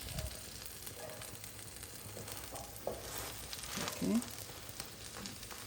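A cactus leaf omelette fries in a pan with a soft, steady sizzle and occasional light stirring scrapes, close but fairly quiet, with a voice speaking briefly over it.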